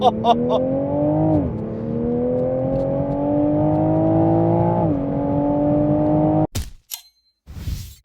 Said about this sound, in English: mash the accelerator pedal with your right foot